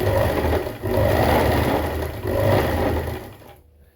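A sewing machine running a straight stitch along pant fabric, a loud, close, continuous mechanical whir that dips briefly twice before winding down and stopping near the end.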